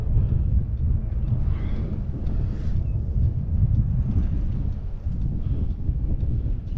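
Steady wind buffets and roars against the microphone outdoors in Phoenix, a continuous low rumble with gusty swells throughout and no talk.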